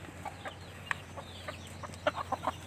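Backyard chickens in a rural province yard, a hen with two chicks, cluck softly in a few short, scattered calls over faint ambient hum, with no one talking.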